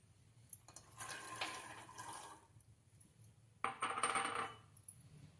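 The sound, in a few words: soaked chickpeas dropped into water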